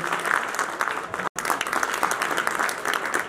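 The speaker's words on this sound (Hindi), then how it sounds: "तालियों के साथ स्वागत कीजिए।" An audience at a fair gathering claps to welcome a guest on stage, a busy mid-level patter that breaks off for an instant and resumes, with faint voices underneath.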